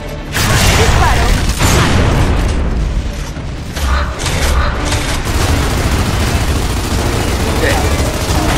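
Gunfire and combat effects in the Gears of War: Judgment video game, Seahorse Hills level, with loud continuous bursts and booming impacts in a dense, sustained barrage.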